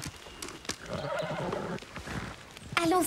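A horse neighs loudly at the end of a scene in an animated series, preceded by scattered hoof clops and shuffling movement close by.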